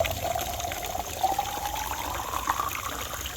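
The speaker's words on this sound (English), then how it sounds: "So you can see, water is going straight to my bottle." Water from a public fountain in Switzerland streams into a bottle, a steady close trickle with a faint rising pitch as it fills.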